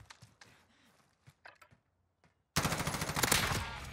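Sustained burst of automatic gunfire in Call of Duty: Modern Warfare, loud and dense, erupting after quieter game sounds and footsteps and continuing to the end.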